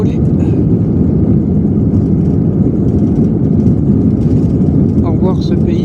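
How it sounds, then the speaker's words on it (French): Airliner engine roaring steadily during takeoff on a flight leaving Kyrgyzstan, a loud continuous low rumble that fills the whole cabin, with faint voices beneath it. "on est en train de décoller"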